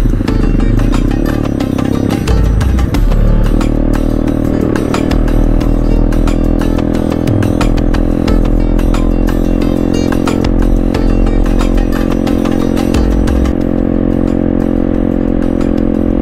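Several classic motorcycles idling and revving together in a group, a loud, continuous, rumbling engine chorus with throttle blips swelling and falling throughout, close by.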